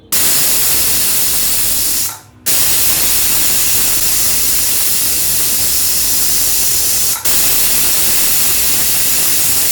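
A pressure cooker releases steam in a loud, continuous hiss that runs on at full force, broken only by one brief drop and a short catch, close and dominant with no talk.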